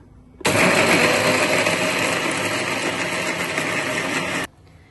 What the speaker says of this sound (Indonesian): Kita blender dulu ya.